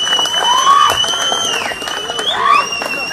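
A crowd at a party-joining political rally in a city ward claps and cheers loudly and continuously, with a shrill whistle-like tone and voices mixed in throughout.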